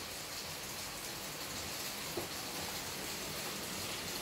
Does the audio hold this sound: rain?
yes